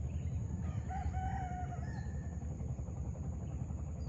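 A rooster crows once, distant and faint, over a steady low rumble of background noise in Bali.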